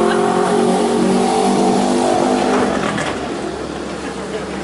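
A fire truck engine revs and roars loudly up close, a dense mechanical drone that holds steady before easing off somewhat toward the end, with a faint voice underneath.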